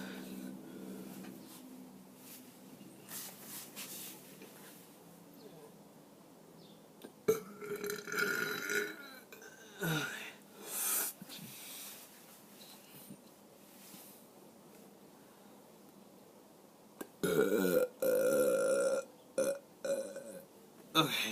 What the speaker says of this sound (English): I'm trying to do a long burp this time.